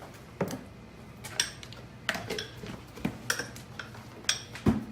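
Spoon clinking and scraping against a bowl while lingonberries and cinnamon are stirred into butter, with irregular sharp taps repeating every half second or so, close and fairly quiet.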